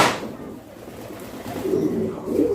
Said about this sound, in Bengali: আরও বিভিন্ন প্রকার ফেন্সি কবুতর আছে